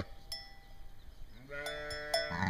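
A newborn purebred Awassi ewe lamb bleats with a clear, drawn-out call that starts midway and carries to the end, following a quiet stretch.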